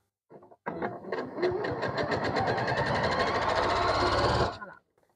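A Janome MC6700P sewing machine stitching a quarter-inch patchwork seam, heard close up: a few short clicks, then a steady mechanical whirring run of about four seconds that stops abruptly.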